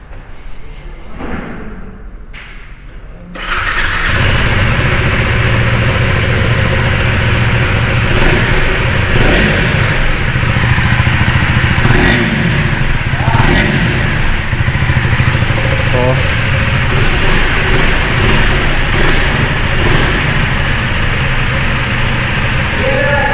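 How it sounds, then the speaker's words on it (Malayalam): A KTM Enduro 390 R motorcycle from 2025 with its engine running, a loud, steady exhaust drone after a short quieter opening with a couple of thumps, holding nearly constant for the rest. "ബൈക്കിൻ്റെ എക്സോസ്റ്റ് നോട്ടും കൂടെ കേൾപ്പിച്ച് തരാം കേട്ടോ"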